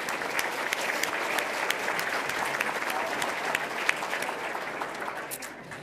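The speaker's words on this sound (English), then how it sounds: "Let's take a moment and give them a round of applause." A room full of people at a Red Cross banquet claps steadily, a sustained burst of applause from a crowd nearby.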